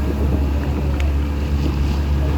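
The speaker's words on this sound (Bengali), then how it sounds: "টেকনাফের উদ্দেশ্যে উত্তাল সাগরে স্পিডবোটে রওনা হয়েছি" Speedboat crossing the rough Bay of Bengal from Saint Martin's Island toward Teknaf, a loud, steady engine-and-hull roar mixed with wind buffeting and rushing water, continuous throughout.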